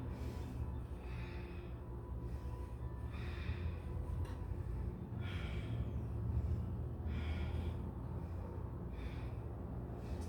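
Slow, audible breaths during a vinyasa yoga forward fold, several long inhales and exhales repeating over a steady background hiss, close and fairly soft.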